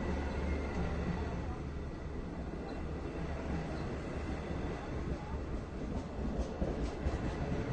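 A Long Island Rail Road train led by DM30AC diesel locomotive 514 rumbles steadily nearby at Westhampton station, a loud continuous roar of engine and wheels that holds for the whole stretch with faint rail clicks and no talk.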